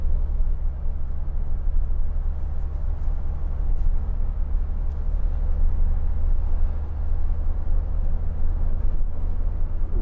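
A 2014 Renault Trafic 2.0 dCi van driving at speed and overtaking, heard from the cabin as a loud, steady low engine drone and road rumble, continuous, with no talking.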